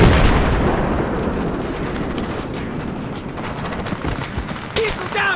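Battlefield 3 ambush gunfire, a dense, continuous barrage of shots and booms from the left out of trees, loud and close throughout, with soldiers shouting over it.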